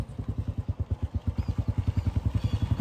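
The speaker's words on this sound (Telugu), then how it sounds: "మా బావ నాకు బైక్ మీద డ్రాప్ చేసేస్తున్నారు" A motorcycle carries a passenger as it rides. The engine chugs steadily in rapid, evenly spaced pulses, close and fairly loud, with no talk over it.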